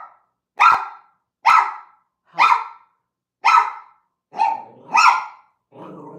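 A dog barks seven times in an even rhythm outdoors in a neighborhood, each bark sharp and close, the last few rougher and more ragged.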